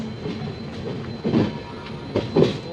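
The Bikaner Express pulls into New Bongaigaon station in the evening, with a steady low rumble of rolling carriages and a few louder clanks of wheels over rail joints, heard from on board.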